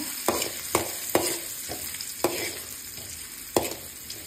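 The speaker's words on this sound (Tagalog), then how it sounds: "Magpatunaw na tayo ng butter. Nilagay na natin yung luya." Ginger frying in melted butter in a pan, a steady sizzle punctuated by about eight sharp scrapes and knocks of a utensil stirring, with no voices.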